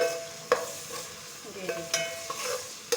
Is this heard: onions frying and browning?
yes